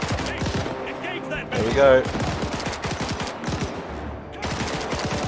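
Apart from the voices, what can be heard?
gunfire in ArmA 3 Battle of Berlin video game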